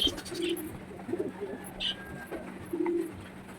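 Pigeons kept indoors coo softly in a series of low, rolling calls close by while it rains outside, with faint rustling between the calls.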